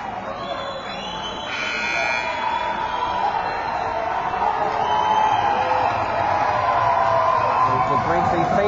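A high school boys hockey crowd at a home playoff game cheers and whoops as a loud arena buzzer blares over the noise. The roar swells and holds steady with no pause.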